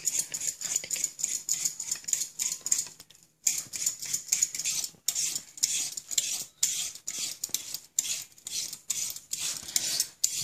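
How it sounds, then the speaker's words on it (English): A handheld peeler scrapes along a raw carrot in quick repeated strokes, each one a rasping swish, with a brief pause partway through. "When you're peeling them using this sort of peeler"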